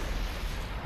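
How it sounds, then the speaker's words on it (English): Grenade blast in the Call of Duty: Ghosts campaign, heard as a short, dense, low-heavy rumble that fills the moment steadily with no voice over it. "I threw a grenade under it, that worked"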